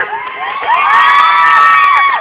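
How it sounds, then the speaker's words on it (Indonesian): Audience cheering at a celebrity event, high excited shouts and whoops from many voices swelling loudly after a brief quieter start, without clear clapping. "Tepuk tangannya dulu."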